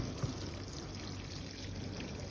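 Water pouring from a watering can onto emersed aquarium plants, a steady close splashing trickle that runs without a break.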